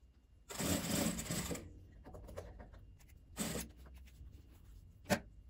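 A sewing machine topstitching around a fabric piece runs in short loud bursts, a long whirring run, a second shorter run and a brief final burst, with soft handling noises between.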